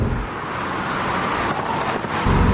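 A car held in 4th gear with the throttle floored from 40 mph, a steady broad engine and road roar with wind rush, loud and continuous, rising in the last moment.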